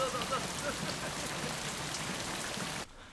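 Heavy rain pours steadily as a dense, even hiss of drops on surfaces that cuts out abruptly near the end.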